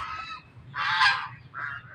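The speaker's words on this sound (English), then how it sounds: "those geese be starting a revolution in there" Geese in a video game honk in a few short bursts, moderately close, with brief pauses between calls.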